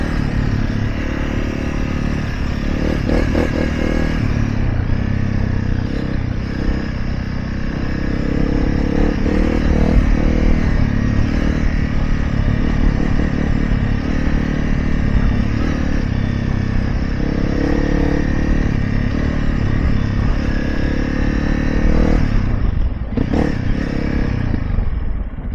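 A Honda CRF 300 Rally motorcycle rides through sand with a steady, loud engine drone and wind rush, broken by occasional clattering bumps and a few throttle surges over nearly half a minute.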